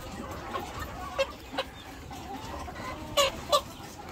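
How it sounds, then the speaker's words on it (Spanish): A very small chick clucks in short sharp peeps, with a few brisk bursts of wing flapping as it is handled, spaced irregularly over steady low background noise. "este pollito es muy pequeño, pero me saca fuerte con las alas"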